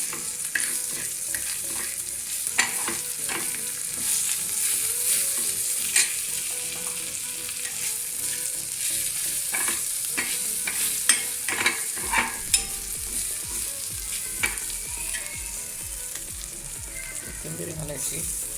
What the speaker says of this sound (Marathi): तरी आपण अशी फोडणी दिलेली आहे त्याला।